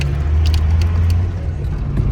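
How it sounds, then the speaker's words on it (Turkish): A turbocharged car engine idles after a drive, a steady low rumble continuing close by without speech, with a few faint clicks above it. "Arabayı kapatma. Turbo falan soğusun bir."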